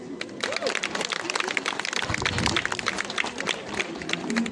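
A crowd applauding at a community unification day celebration, dense hand clapping swelling and continuing with some crowd murmur mixed in.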